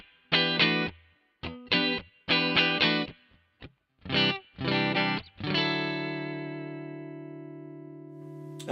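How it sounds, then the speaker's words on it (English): Clean electric guitar on the neck pickup of a shell pink offset Telecaster, played straight through an amp with a little reverb: a few short strummed chords, then a final chord ringing out and decaying alone. "This is it clean just through the amp with a bit of reverb."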